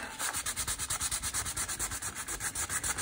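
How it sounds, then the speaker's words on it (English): Fine grit sandpaper rubs across a painted sketchbook page in quick, even back-and-forth strokes, a close, steady rasping pulse of about seven strokes a second with no voices. "I wonder what would happen if I sanded that a little bit. Got some fine grit sandpaper here"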